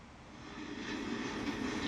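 A train in the Final Fantasy VII Remake game rumbles with a steady low roar that swells slightly louder, heard alone without voices.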